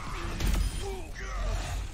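The Earthshatter ability in Overwatch 2 strikes as a heavy crashing impact mixed into dense game noise, a short loud burst among continuous effects and low rumble.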